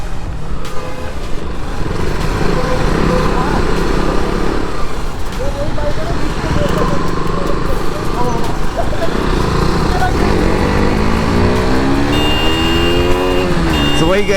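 Three motorcycles race along a road, engines droning loudly and revving with rising pitch sweeps near the end, while someone talks excitedly over the noise.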